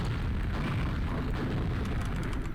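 An explosion from a rocket shot striking a fiend in a video game: a dense, continuous low rumbling boom that stays loud and sustained for a couple of seconds.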